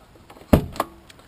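A door on a 2004 Rest of the World spec 300Tdi Land Rover Defender, square steel-and-pressed-aluminium type, shuts with one sharp, close thud, followed a moment later by a smaller latching knock.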